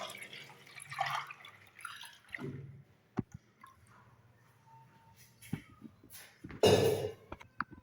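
Lassi made from 2 kg of churned buttermilk trickles and splashes into a bowl, soft dripping and pouring sounds with a louder splash near the end, close by and without speech.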